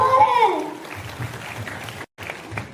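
A crowd applauds the Patiala police at an event returning lost mobile phones, with steady clapping under a voice, briefly cut off by a moment of silence before resuming.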